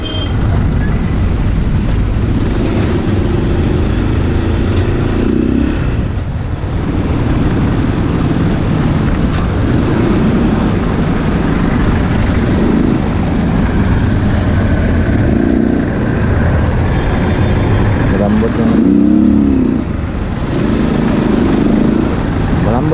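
Dense road traffic of cars and motorcycles, a constant loud engine rumble with repeated passing swells close by and no voices over it.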